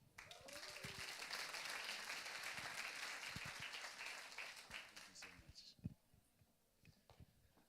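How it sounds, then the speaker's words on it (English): A live-stream audience applauds a speaker taking the stage: broad, dense clapping that holds for several seconds and then thins to a few scattered claps, with brief voices in between. "Don't clap for me."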